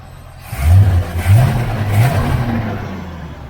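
A 1977 Chevrolet Malibu Classic with a Quadrajet carburetor and aluminum intake runs close by, its engine rising in a couple of short revs before settling into a steady loud idle rumble.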